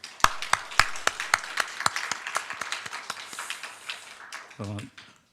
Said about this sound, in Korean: 다시 한번 우리 감사 박수 더 한번 드리도록 하겠습니다